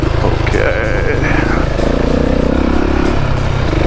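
A motorcycle being ridden on a dirt trail with berms, its engine droning steadily and close for the whole stretch, with rough low rumble and wind noise.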